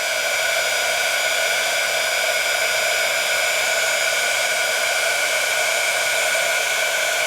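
A heat tool blows hot air onto embossing powder, making a loud, steady, hissing rush of air that holds unchanged the whole time, with no voices over it.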